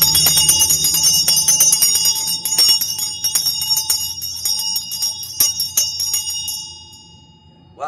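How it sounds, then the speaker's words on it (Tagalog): A bell rings continuously with rapid, bright metallic strikes and a sustained shimmering tone, loud and close, then fades away near the end with no talk. "maganda ang tining ng ating bell kay PRRD"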